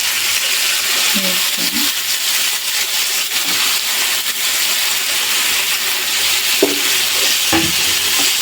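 Onions, tomatoes and brinjal pieces frying in a pan for a brinjal, tomato and salted fish curry, a steady broadband sizzle with occasional stirring clinks, close and fairly loud throughout.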